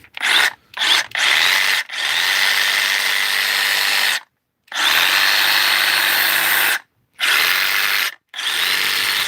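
A Milwaukee M18 Fuel cordless saw whirs close by in several bursts of varying length, separated by short silent pauses and stopping at the end.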